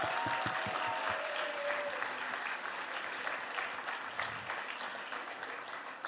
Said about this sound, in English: big round of applause to the twins